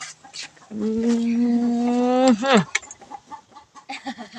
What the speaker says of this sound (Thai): เสียงไก่กระตากกระตาก